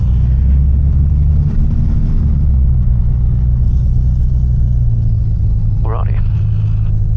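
A Piper PA28 light aircraft's piston engine drones low and steady while the plane taxis, a constant rumble heard from inside the cabin, with a brief voice crackle near the end.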